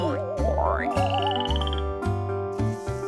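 Cartoonish frog croaks ring out over a bouncy musical backing, with wobbling synthetic tones and a steady rhythmic bass.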